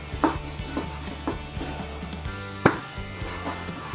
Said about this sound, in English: We're going to cut the rib in big chunks